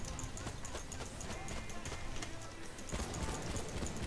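Horse hooves clip-clopping at a rapid galloping rhythm in the Battlefield 1 video game, mixed with game noise and a faint voice in the background.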